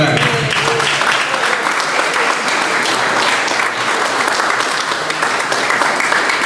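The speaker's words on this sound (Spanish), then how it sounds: "pido fuertes aplausos" Loud, sustained applause from a large crowd at a law lecture, dense clapping filling the room without a break.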